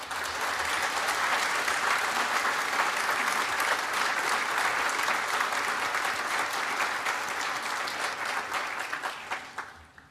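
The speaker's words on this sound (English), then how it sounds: "Please join me in thanking them with a well-deserved round of applause." Sustained audience applause at a university graduation ceremony, a dense wash of clapping from a large crowd in a hall, holding steady for about nine seconds before tapering off.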